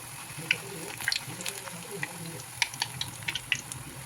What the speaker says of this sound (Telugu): అటు ఇటు తిప్పుతూ మంచిగా క్రిస్పీగా వచ్చే వరకు అయితే వేయించుకోవాలండి